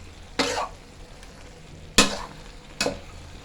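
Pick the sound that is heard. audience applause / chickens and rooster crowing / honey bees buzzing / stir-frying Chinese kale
stir-frying Chinese kale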